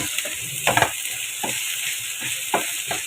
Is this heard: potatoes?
yes